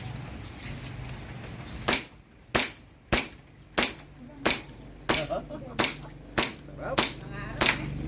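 A semi-automatic handgun fires about eleven sharp shots at a fairly steady pace, each one loud and close, with quiet background sound between the reports.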